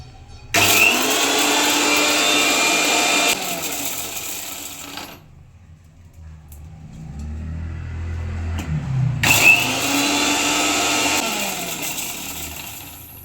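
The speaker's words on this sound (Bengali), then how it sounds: "এখন মিক্সারে মশলা করে নেব।" A kitchen mixer grinder dry-grinds whole dried red chilies and bay leaves in two loud, harsh whirring bursts, separated by a quieter pause with knocking and rattling.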